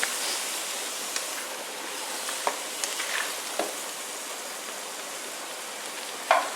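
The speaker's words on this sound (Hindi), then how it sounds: "मसाले को 2 मिनट तक भूनते हैं।" Potatoes and brinjal fry in a spiced masala in a pan, giving a steady close sizzle with occasional soft clinks and stirring knocks.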